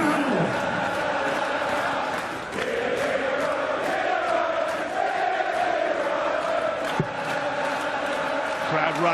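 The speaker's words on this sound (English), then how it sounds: "Crowd right behind Peter Wright" Darts crowd at the World Championship final backing Peter Wright, a dense roaring chant from a large arena audience, sustained and loud throughout with swells, a commentator's voice briefly over it.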